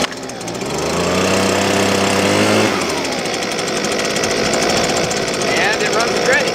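A Husqvarna 125B leaf blower's small two-stroke engine starts at half choke, then revs up into a loud, steady close-range drone that drops slightly in pitch and keeps running.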